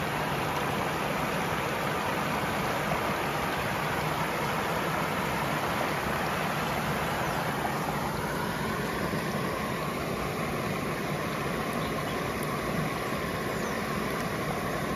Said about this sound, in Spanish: Aquí podría yo pasar el día entero con mis ojos cerrados escuchando el sonido del agua.